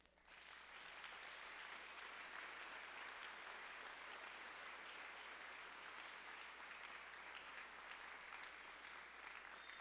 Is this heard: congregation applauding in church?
yes